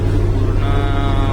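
A car engine runs with a steady, loud low hum during a heavy summer downpour, with a broad wash of rain noise layered over it.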